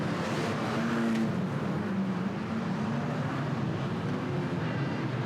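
Banger racing cars roar around a track in a dense, continuous wall of engine noise, loud and steady with no talk over it.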